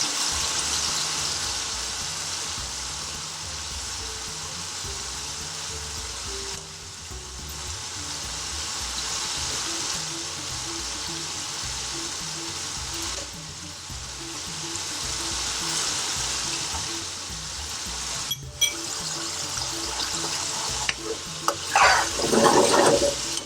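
Gravy for a chana saag masala bubbling and sizzling steadily in a hot pan, a continuous loud frying hiss with occasional sharper spits and stirring scrapes toward the end.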